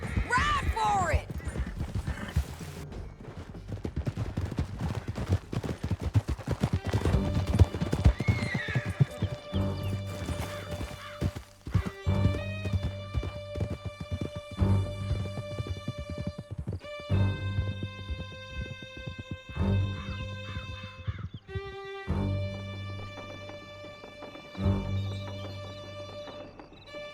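Horses gallop in the Red Dead Redemption 2 video game, with a steady drumming of hoofbeats and occasional whinnies over sustained musical tones throughout.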